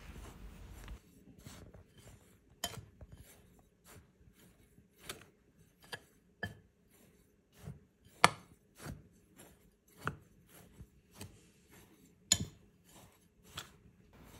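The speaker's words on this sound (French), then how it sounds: "Vous mélangez bien le tout à l'aide d'une cuillère" Spoon mixing gluten-free cookie batter in a bowl, a series of faint, separate clacks and scrapes at an uneven pace, close and quiet with no talk.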